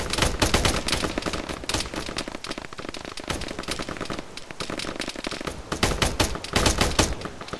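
Dense, continuous gunfire in a military shooter game, near and loud, with rapid automatic bursts and overlapping single shots filling the whole stretch.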